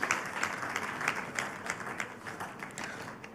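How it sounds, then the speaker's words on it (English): Audience applause and clapping at a creatives' summit session, fairly quiet and distant, with individual claps popping out in an uneven rhythm over a steady crowd wash for several seconds. "Please keep clapping, keep clapping."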